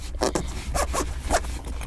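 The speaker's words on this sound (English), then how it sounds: "Zip it up." A zipper on an AirPods Max Shield carrying case drawn shut in a few quick, close rasping pulls, with no one talking over it.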